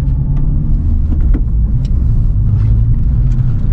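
A 2021 Honda Civic Type R drives along, giving a steady, close, loud low rumble of engine and road noise with faint ticks and bumps over it.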